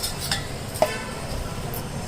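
A spoon stirs and mixes a thick chia seed and flaxseed laddu mixture in a pot, giving soft scraping and faint clicks with one brief sharper tap, alone and close.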